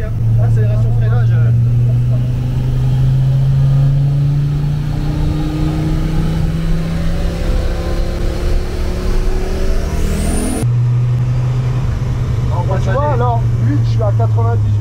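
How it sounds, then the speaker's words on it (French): A Ford Focus RS-R race car accelerates and brakes, heard loud from inside the cabin. The engine drone climbs in pitch, drops sharply, then rises again, with voices talking over it. "Accélération freinage."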